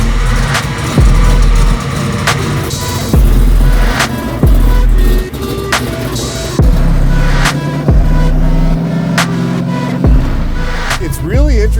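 A 1969 Chevelle with a 1004 hp, 632 cubic-inch big-block Chevy crate engine and exposed blower scoop rumbles steadily on the road, loud and close, with repeated sharp thumps and revs, while people talk over the drone.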